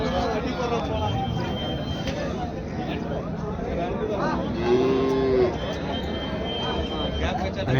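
HF dairy cattle at a busy rural cattle market low and moo intermittently, with one clear drawn-out moo near the middle, over constant crowd babble and people talking nearby.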